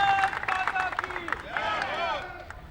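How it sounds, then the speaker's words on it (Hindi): An audience at a BJP event at a blind school in Amar Colony claps for Shikha ji, a scattered, moderately loud patter of hands mixed with crowd murmur and voices. "ताली बजा के शिखा जी को यही बधाई दे दो आप"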